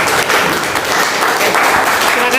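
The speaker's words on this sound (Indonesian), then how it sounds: "Tepuk tangan ya." A class in a workshop training session claps in sustained, dense applause that fills the room evenly from start to finish.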